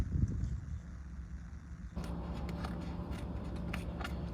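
Scissors snip through paper scraps for a handmade card, a short run of light crisp cuts following a quiet stretch, close and fairly soft, with no talking.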